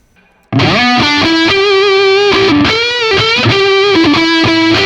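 Distorted electric guitar riff through an ENGL E670 Special Edition amp, sustained notes and chords ringing with a washy reverb tail, loud and close, no talking.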